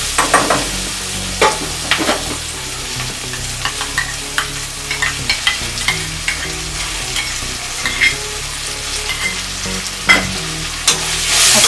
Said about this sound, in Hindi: अभी हम इसमें जिंजर गार्लिक पेस्ट डालेंगे